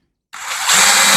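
A power drill drives screws into the corner of a wooden deep brood box for beehives. After a brief silence, one close, loud burst of whirring starts and rises in pitch as the screw seats.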